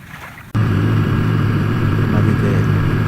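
A boat on a river starts up abruptly after a short quiet moment, then holds a loud, steady engine drone with a low hum and rushing water noise.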